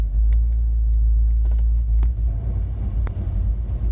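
A 360 engine with low oil pressure is revved, producing a loud, steady, close rumble that holds for several seconds with a few faint clicks over it.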